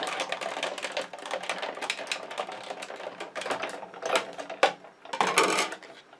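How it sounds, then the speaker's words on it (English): A hand-cranked embossing machine rolling a cardstock sandwich with a cutting pad through its rollers, a close, rapid clattering and ratcheting, uneven with a few louder clunks toward the end, no talking. "we'll just crank this right through."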